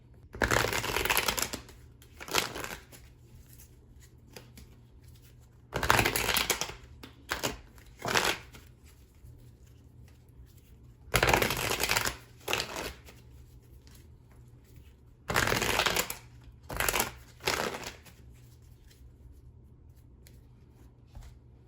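Tarot cards are shuffled in repeated bursts, each a crisp riffling flutter lasting a second or two, separated by quiet gaps, close up and alone.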